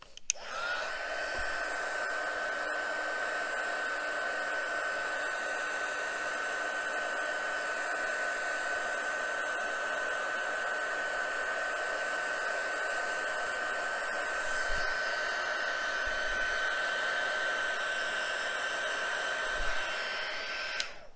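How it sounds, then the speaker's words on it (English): A hair dryer blows steadily and close for the whole stretch, drying watercolor paint on a frog painting. Its whine holds an even pitch from start to end with no pauses and no talking. "take your hair dryer and dry the ball"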